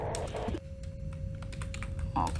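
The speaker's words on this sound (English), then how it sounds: "I pressed the exact center between my 3 and 2 keys" Computer keyboard keys clack in quick, uneven bursts of close clicks during play of Duskers, with a steady low hum underneath.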